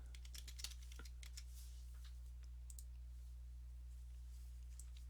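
Computer keyboard typing while entering code into a function, a run of light, quick key clicks up close that thin out after the first second, over a steady low hum.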